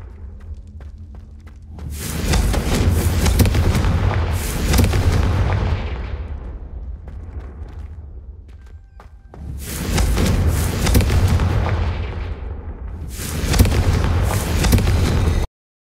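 Explosive fire-spell blasts bursting braziers in the Hogwarts Legacy game, heavy booming detonations in two long roaring waves with a quieter lull between, loud and close.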